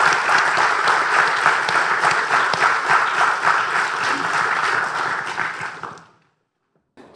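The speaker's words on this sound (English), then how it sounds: "a round of applause to our experts here today" An audience at a housing supply summit gives sustained applause for the panel of experts. The dense, steady clapping stops suddenly into silence.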